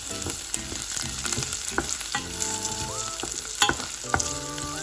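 Chopped garlic and ginger fry in a pan with oil, a steady close sizzle with stirring scrapes and clinks running throughout, no voices.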